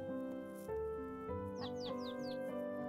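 Birds chirping in a forest scene in the video game My Time at Portia, a run of four quick, faint descending chirps over steady game music, with no talk.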